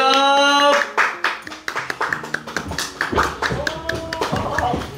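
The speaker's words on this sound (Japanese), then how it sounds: "拍手。" Applause breaks out for a breakdancer being introduced at an event, beginning after a brief tonal chime and continuing as a burst of hand claps and taps, fairly close and loud, with faint voices under it.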